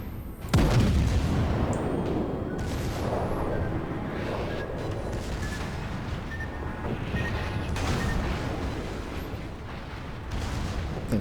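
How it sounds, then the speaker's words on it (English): Heavy main-gun salvos from the French battleship Jean Bart in World of Warships: a sharp loud boom near the start, then rumbling distant blasts and shell impacts over steady battle noise. "there goes the main gun"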